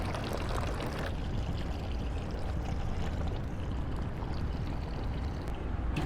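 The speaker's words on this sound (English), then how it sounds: "A little bit of softener. Doesn't take much." Fabric softener is poured into a laundry bucket, giving a continuous close liquid gush. It stays loud and steady for about six seconds with no talk.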